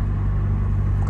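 A BMW M2 fitted with an M4 engine idles with a deep, steady, close rumble, low and constant without revving or voices.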